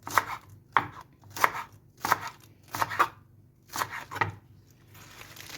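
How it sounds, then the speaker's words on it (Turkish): Fresh lettuce being finely chopped with a knife for a Turkish shepherd's salad: about eight crisp, evenly spaced cuts on a board, close and distinct, with no voices. "İnce ince doğruyorum marulumu."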